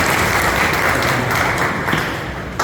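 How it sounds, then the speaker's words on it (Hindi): Dense, loud clapping from an audience at a Hindi poetry recitation, continuous and close for a couple of seconds before tapering slightly. "आप ताली बजाइए, मुझे ताली बजाइए।"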